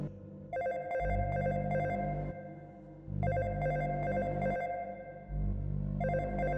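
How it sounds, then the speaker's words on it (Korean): Mobile phone ringtone in an audio drama, a repeating electronic ring pattern of bright tones over a low hum, playing in three steady bursts at moderate level with no talk. "휴대전화 벨소리가 어디선가 들려온다."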